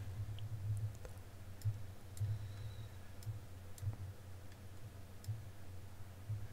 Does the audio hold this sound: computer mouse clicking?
yes